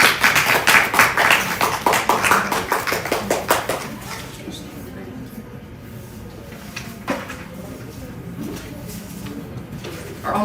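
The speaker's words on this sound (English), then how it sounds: "Can you all give me a round of applause for our panelists?" Audience applause at a Black History Month celebration panel, a dense burst of clapping that is loud for the first few seconds, then fades into quiet room noise with a few scattered claps.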